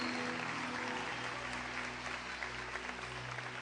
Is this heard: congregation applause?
yes